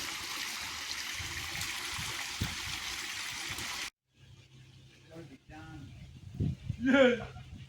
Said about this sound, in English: That waterfall's got a good drop now